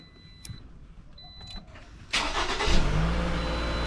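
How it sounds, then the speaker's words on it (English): A few quiet clicks and a soft electronic chime in a garage precede a 2010 Toyota RAV4 engine cranking and catching, then settling into a loud, steady idle close by. "So I'm going to be starting up the vehicle."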